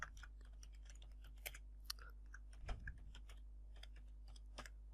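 Keystrokes on a computer keyboard while entering text in a website builder, quiet scattered clicks tapping irregularly throughout, faint and close, with no talking.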